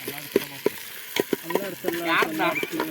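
Fenugreek leaves stirred in a hot pan, with repeated scraping strokes of a spoon over a soft sizzle and a brief voice-like sound near the end.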